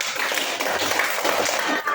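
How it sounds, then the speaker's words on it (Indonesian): Classroom of students applauding a presenting group, a brief burst of dense, steady clapping from many hands close by. "Tepuk tangan dulu buat kelompok 3."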